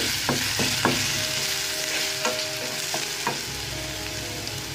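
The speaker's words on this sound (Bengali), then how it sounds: "এবার আমি এর মধ্যে রসুন কুচিটা দিয়ে দেবো" Chopped garlic goes into caramelized sugar in a pan while cooking Chicken 65, frying with a steady close sizzle, light clinks of a utensil and a few sharper stirring knocks.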